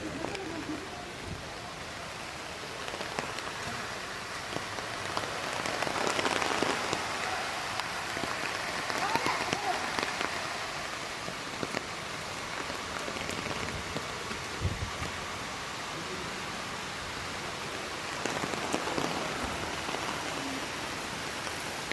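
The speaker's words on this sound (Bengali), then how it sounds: "প্রচণ্ড বৃষ্টি, প্রচণ্ড।" Continuous hiss of heavy rain falling on surfaces at Panchalingeswar temple, fairly soft and distant, with occasional faint bird calls and no talking.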